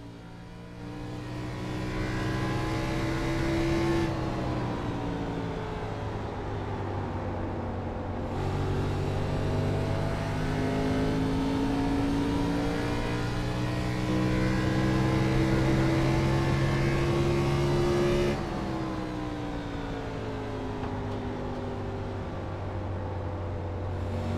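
A race car laps Phoenix in the iRacing sim, its engine droning loudly with rising and falling harmonics as it shifts through corners, with two sharp changes in pitch as gears change, heard alone without talk.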